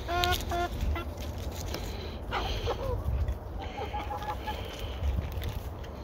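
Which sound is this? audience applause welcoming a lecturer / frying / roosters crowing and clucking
roosters crowing and clucking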